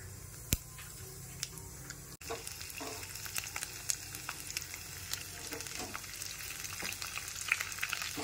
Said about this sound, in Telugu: ఇప్పుడు దీనికి తిరగమాత పెట్టుకుందాం. ఆవాలు,